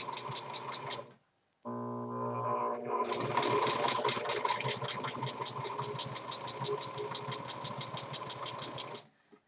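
A sewing machine stitches a fitted cloth diaper, sewing along the inside of pulled-tight elastic. After a short burst and a brief stop it runs in a fast, steady mechanical chatter, close up, with no voices.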